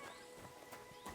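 Faint horse whinnies and clip-clopping hooves in the video game Kingdom Come: Deliverance II, in a game-like outdoor town ambience, distant and low in level, with no talking.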